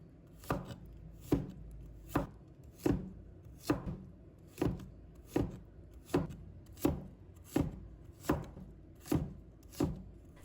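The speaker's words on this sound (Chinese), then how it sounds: "再改刀切成菱形片，尽量保持薄厚均匀" A knife chops a cucumber into thin diamond-shaped slices on a cutting board, thirteen crisp evenly spaced cuts at a steady rhythm, close and alone with no talk.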